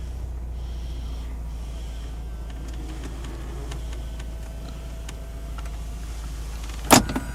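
A BMW Z4 convertible roof closing, driven by a swapped-in Peugeot 206 CC hydraulic pump: a steady low motor whir runs throughout, ending in a sharp clunk as the roof latches.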